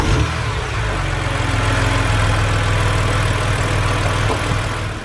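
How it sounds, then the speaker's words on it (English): A BMW with the N52 inline-six engine idles steadily after an oil change and engine flush, a close, even low rumble with a fine rhythmic pulse that holds constant throughout with no voices. "then we'll start the engine back up and let it run for about 10 minutes."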